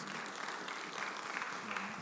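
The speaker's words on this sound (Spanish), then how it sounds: "Le damos un aplauso a nuestro Señor, hermanos." A church congregation applauds during an evening service, a soft, distant, continuous patter of clapping that stays even for the whole moment.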